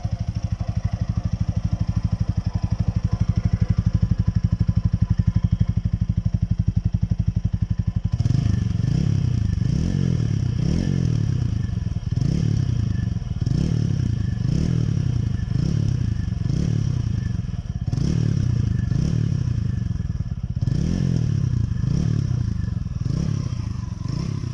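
A 2020 TVS Apache 200 RTR 2.0 4V motorcycle fires up on a single kick or press, then its engine runs with a loud, steady pulsing idle and repeated throttle blips, close by and without any talk.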